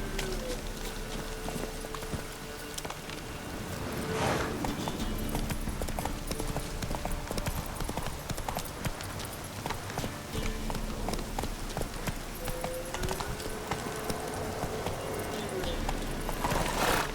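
Horse hooves in The Witcher 3, a steady rhythmic clip-clop of a galloping horse close by, continuous over a low ambient bed with a short word spoken.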